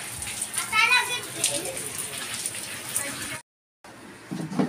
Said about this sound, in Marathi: जस्ट आत्ताच आला आहे पाऊस, बघू शकताय. हा, पाऊस आला.